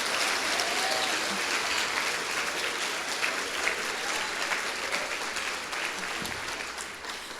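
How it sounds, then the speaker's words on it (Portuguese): A church congregation at a regional deacons' gathering applauds in a dense, sustained wash of clapping that holds steady throughout, heard from within a large room, with a faint voice murmuring underneath. "Aplauda Ele bem forte."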